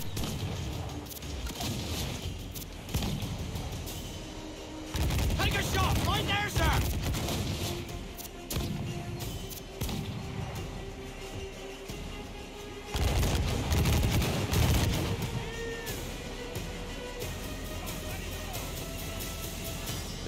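Dense volleys of cannon and gun blasts from many weapons in the pirate game Assassin's Creed IV Black Flag, booming in bursts over background battle noise and music, with a player's voice occasionally heard over it.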